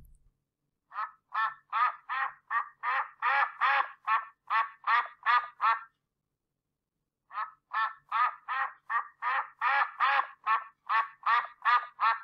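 A duck quacks in two long runs of rapid, evenly spaced calls, clear and fairly close, with a short silence between the runs and no talking.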